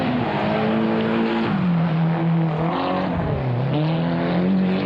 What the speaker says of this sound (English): these great big rally cars being flung around this tiny oval on shale